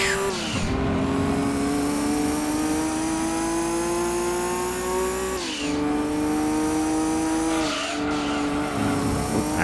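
A sports car in the racing game Gran Turismo 2, its engine revving up through the gears with a rising whine, broken twice by gear shifts or braking, with tire squeal mixed in, loud and close throughout.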